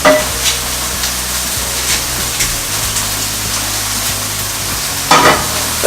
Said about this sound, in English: I'm going to add a tablespoon of butter. In there. I'm going to let that melt down.